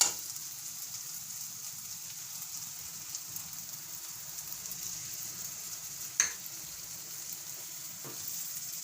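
Soaked fenugreek and green chilies fry quietly in hot oil, giving a faint, even sizzle with a couple of small pops and clicks.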